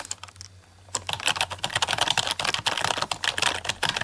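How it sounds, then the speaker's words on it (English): Rapid, soft clacking of keys on a Logitech K120 rubber dome keyboard, close up, after a brief quiet start; the typing is quick and continuous. "let's get some, like, keyboard noise and stuff like that."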